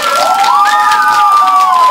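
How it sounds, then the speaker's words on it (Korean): Middle-school girls in a classroom cheer together in a loud, rising, sustained whoop that lasts about two seconds. The sound is close and bright, with little clapping showing through. "교실 여기저기서 박수 소리가 울려"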